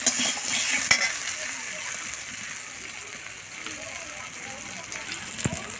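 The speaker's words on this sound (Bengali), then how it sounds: "এবার একটু ভেজে নেব আলুগুলো" Boiled potatoes frying in a pan give a steady loud sizzle with hissing oil, broken by a few sharp scraping clicks of stirring, close by.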